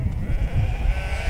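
A freshly shorn sheep in the Keshiketeng grasslands bleats in a drawn-out, wavering cry, close and clear over low rumbling background noise.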